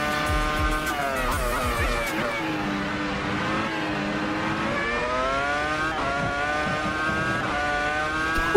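A Williams FW26 race car in a racing video game drifts with tires squealing, its engine note rising and falling through revs and gear changes, loud and sustained throughout with no voices.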